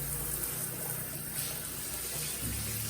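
Water runs from a bathtub tap in a log cabin with well water, a steady low rushing flow that continues evenly throughout at moderate volume, with no voices.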